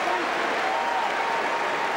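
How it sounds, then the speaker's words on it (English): Crowd applause fills a college basketball arena during an Indiana at Minnesota game, a broad steady wash of clapping and cheering throughout, with a commentator talking over it. "And the crowd appreciating that."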